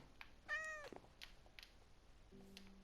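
A single clear Minecraft cat meow, fairly close, with faint soft clicks and a low steady hum around it; no one talks.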